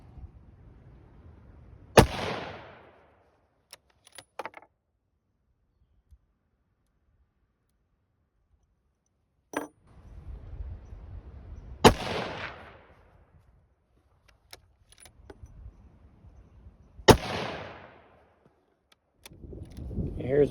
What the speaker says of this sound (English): Here's my second set of 3 shots with this gun at 100 yards